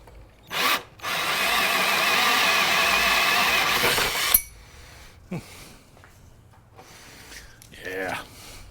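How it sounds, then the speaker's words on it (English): A power drill whirs loudly for about three seconds while drilling into a car, then stops; brief voices and faint rustling follow. "now we're drilling"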